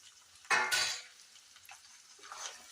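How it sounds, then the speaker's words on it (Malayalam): A spoon stirs salted payar thoran in a pan, opening with one loud scraping clatter, then quieter light scrapes and faint sizzle, close by and with no talk. "ഇളക്കി കൊടുക്കാം"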